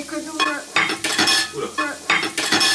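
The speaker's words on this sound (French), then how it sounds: "dans cette huile chaude, nous y mettons vite l'ail que nous avons préalablement haché" Chopped garlic dropped into hot oil in a pan for migas, giving a loud crackling sizzle broken by scraping and stirring strokes, with a voice speaking briefly over it.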